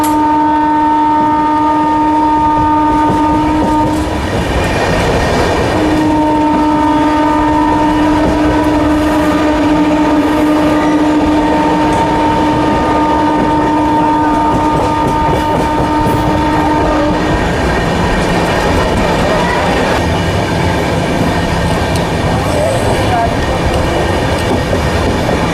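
Passenger train 04064, a summer special, rolls through Fatehpur station at speed without stopping, its loud continuous rumble and wheel clatter heard from on board, with a sustained horn blast sounding over the first half.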